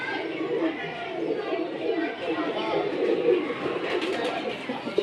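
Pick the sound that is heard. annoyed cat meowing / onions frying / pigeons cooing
pigeons cooing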